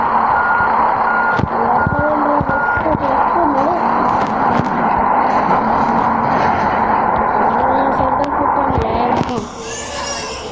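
A loud, steady truck rumble runs throughout, with sharp tonal reversing beeps repeating at intervals and voices sounding in the background.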